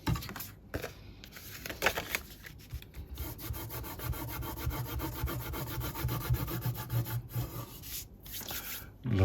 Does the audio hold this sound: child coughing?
no